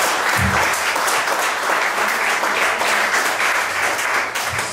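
A seminar audience at a multi-level-marketing talk bursts into loud, dense, sustained applause that fills the whole stretch.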